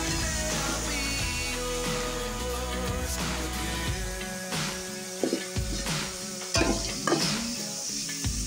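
Ginger, onion and garlic hit a smoking-hot pan, giving a loud, steady sizzle that is stirred through with scraping and occasional clinks of a utensil against the pan.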